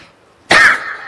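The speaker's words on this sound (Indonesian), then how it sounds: "Saking, maaf, keterpasan batuk," A single sharp, loud cough bursts out close to the microphone, then trails off into quiet room noise.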